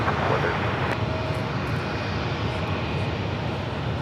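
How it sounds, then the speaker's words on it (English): An American Airlines A320 arrives at LAX with a broad, steady jet roar, loud and continuous. A faint voice sits under it. "This next arrival is American Airlines 1589 coming in from Charlotte on the A320."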